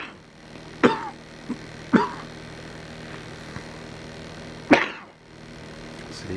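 A few short, sharp coughs spaced apart over a quiet background, one or two heavier than the rest.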